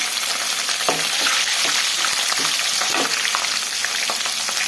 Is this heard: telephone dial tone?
no